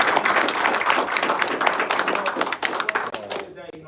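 A crowd claps in dense, sustained applause in an office setting, loud and steady for several seconds before thinning out and tapering near the end.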